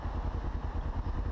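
A motorcycle engine putters at a steady, rapid idle rhythm, close and moderately loud, with no talking.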